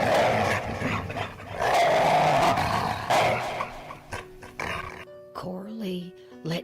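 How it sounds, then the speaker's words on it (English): A deep, blood-curdling monster growl from a haunting tale, rumbling and roaring loudly for several seconds before breaking into lower, choppier snarls. "and Jacob heard a blood-curdling growl."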